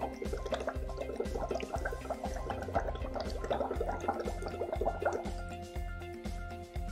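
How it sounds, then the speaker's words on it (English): Someone blows through a tube into a container of water for a home test, producing loud, rhythmic bubbling gurgles in quick regular bursts, up close and without speech. "I blow into this water and see what color it turns"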